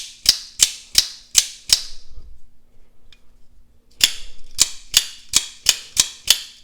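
An updated Axial Shift mechanical toy being worked by hand: two quick runs of about five or six sharp, evenly spaced snapping clicks, separated by a quiet pause with faint handling noise.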